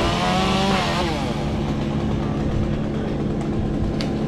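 A chainsaw cutting a cottonwood tree drones loudly and steadily, its engine pitch sliding near the start, then holding a constant rasping whine with a few faint knocks toward the end.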